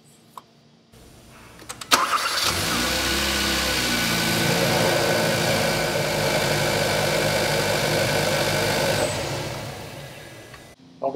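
A car engine starts with a sharp crank and catch after a quiet moment, then idles steadily and loudly for several seconds before cutting off, with no talk over it.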